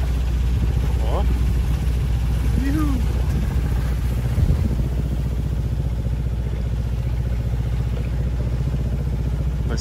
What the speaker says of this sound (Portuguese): Navegando no motor.